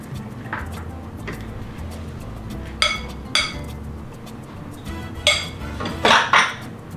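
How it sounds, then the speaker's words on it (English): Dry ingredients for banana bread being tipped into a bowl of wet ingredients, with a low shuffling rustle broken by several sharp clinks of utensils against the bowl, clustered toward the end. "we're going to go ahead and dump these dry ingredients in with the wet ingredients"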